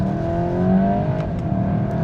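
Volkswagen Golf GTI Clubsport engine droning steadily from inside the cabin, a low continuous hum with rising harmonic tones as it pulls under load, loud and close with no talk.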